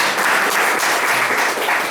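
Audience applause at a trauma and EFT workshop, with a dense, steady wash of many hands clapping close by throughout.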